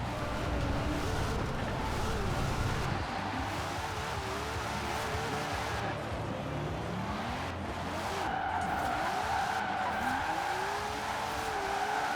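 A Toyota fitted with a Nissan engine roars steadily in Forza Horizon 4, its engine note climbing and dropping through gear changes while tires squeal and skid in long wavering screeches, loud and continuous throughout.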